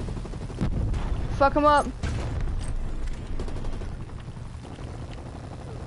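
Gunship fire in a Call of Duty style video game, a sustained rumbling barrage of heavy rounds with rotor-like drone, and players' voices talking over it.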